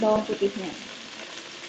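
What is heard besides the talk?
minced garlic sizzling in a frying pan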